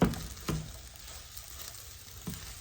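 Shrimp fried rice sizzles faintly in a pan as it is stirred, with a few soft scraping knocks from the utensil against the pan.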